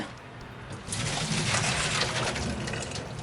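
Water gushes and splashes steadily as a pot of boiled edamame is drained, starting moderately and swelling louder after the first second into a continuous, close rushing pour with no voices.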